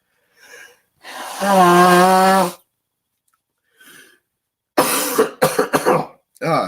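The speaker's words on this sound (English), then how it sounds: "I am going to grab a tissue and I am going to blow my nose live on stream." A long, loud honking nose blow into a tissue, followed by a few short snorts and sniffles after a pause.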